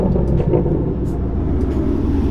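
Stock Camaro with a muffler delete, a deep low exhaust rumble rolling steadily at close range, with a few faint higher noises on top and no talk.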